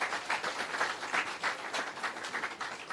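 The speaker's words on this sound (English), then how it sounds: "Another round of applause for the kids." An audience applauds for schoolchildren at an outdoor launch of a restored scenic bamboo avenue in Jamaica, a steady burst of fairly close, dense clapping throughout.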